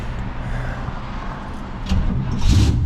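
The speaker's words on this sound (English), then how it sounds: "Oh, let's see if this fires back up." A big-block Plymouth car engine fires back up, a loud close rumble of cranking and running that swells stronger toward the end.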